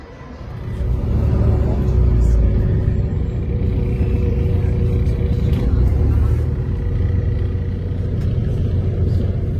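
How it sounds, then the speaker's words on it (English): Vehicles driving at a bus station, a loud continuous rumble of engines with a rise near the start, busy and close, with some faint speech mixed into the noise. "It's the bus station, about to go to Halifax."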